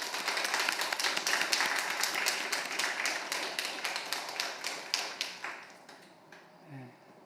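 Church congregation clapping to welcome a member's mother during a Sunday service, a fairly quiet burst of many hands that tapers off over several seconds, ending with a short murmur of voices.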